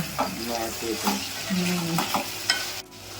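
Brinjal (eggplant) pieces fry in a pan with a steady sizzle, while a spatula scrapes and turns them in several distinct strokes and a couple of brief thuds.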